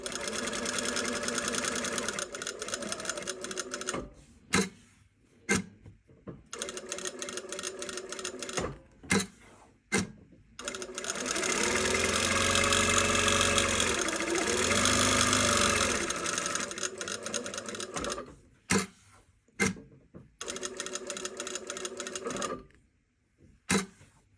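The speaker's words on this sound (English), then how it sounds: "I'm using a shorter stitch length on this muslin." A sewing machine runs in long bursts and short pauses as it stitches an exposed zipper into muslin with a short stitch length, its steady mechanical whir loud and near with no talking.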